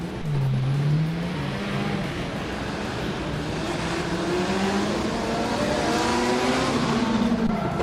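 A drift car at a Drift Kings Asia round in Malaysia accelerates hard into the first corner, its engine note climbing steadily over roughly eight seconds, loud and continuous, with faint tire squeal and no talk.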